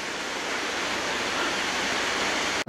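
Waterfall at the end of the Kirnitzschtal tram line in Saxon Switzerland, a constant loud rushing hiss of falling water, close and steady, cut by a brief dropout near the end.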